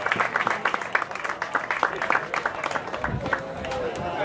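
A crowd at a comic convention costume contest applauding a Savage Dragon contestant, with dense, uneven clapping and cheering throughout and people talking amid the noise.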